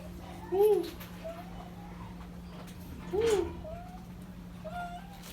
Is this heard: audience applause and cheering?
no